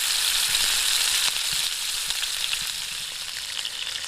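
Steady loud sizzling and crackling of a patty frying in a hot skillet, continuous and close with no talking.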